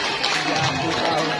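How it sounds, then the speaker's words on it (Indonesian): An audience at a children's dance recital applauds loudly and steadily, a thick continuous clatter of many hands with crowd voices and cheering blended in. "sekali lagi deh bapak ibu tepuk tangannya"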